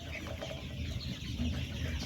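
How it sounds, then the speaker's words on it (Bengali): Egyptian Fayoumi chickens cluck quietly in a noisy farmyard background, low and continuous with no voices. "এই মুরগির জাত মিশরীয় ফাউমি মুরগি"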